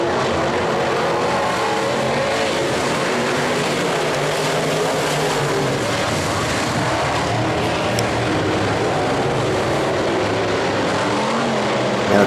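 Sprint cars roaring past in a tightly bunched pack at a dirt-track race, a loud continuous engine howl with overlapping drones that stays saturated and close for the whole stretch, no speech.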